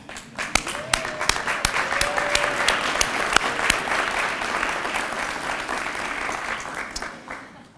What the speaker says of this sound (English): Why don't I ask you all to stand up and cheer them for a minute?